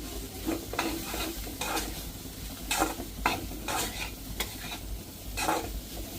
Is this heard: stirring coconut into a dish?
yes